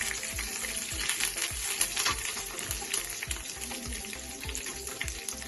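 Curry leaves sizzle steadily in hot oil, fried as a topping for tapioca biryani, with a dense crackling hiss and soft scraping stirs of a spoon throughout.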